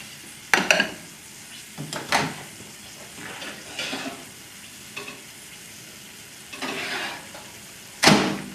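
Shrimps fry in a hot pan, a continuous sizzle punctuated by clinks and scrapes of utensils against the pan and several sharper bursts as they are stirred, close and fairly loud.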